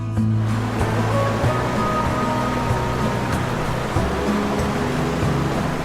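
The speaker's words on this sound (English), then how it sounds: "the roar of the rushing water can be heard from a whopping 24 miles away" A steady, broad roar of rushing water fills the clip, constant and heavy like surf or a large waterfall, with a low hum beneath.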